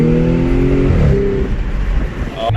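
An Audi S5 engine revs and its dual clutch transmission shifts, the rising engine tone dropping sharply at the gear change before pulling again, loud and close inside the cabin with a steady background drone.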